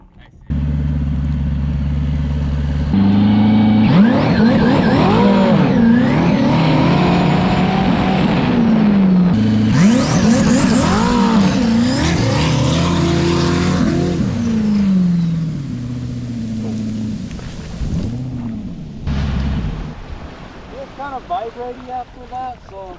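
V8 turbo jet ski at full throttle on water, a loud continuous engine roar with rising and falling pitch sweeps as it accelerates, heavy wind noise throughout and tailing off near the end.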